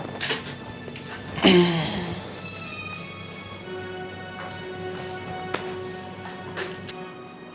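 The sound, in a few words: dishes being carried away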